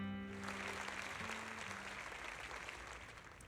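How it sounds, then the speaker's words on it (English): Crowd applause in the video game Zenless Zone Zero, a steady wash of many hands clapping after a speech, loud and continuous and slowly fading toward the end, with faint musical tones at the start. "speech is met with a wave of applauding applauses"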